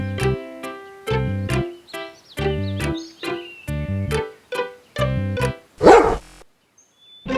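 A big cartoon dog barks in a series of loud, evenly spaced woofs, followed by a sharp rustling burst and then quiet.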